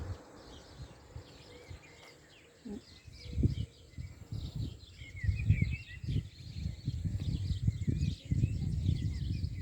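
Small birds chirp and twitter in a cornfield, bright repeated calls scattered in the background, while low rustling, wind buffeting and handling thumps from someone walking nearby grow louder.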